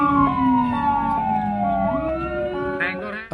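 An ambulance siren wails loudly and continuously, its tone sweeping up and down and holding close throughout, while the ambulance is hemmed in by a black car.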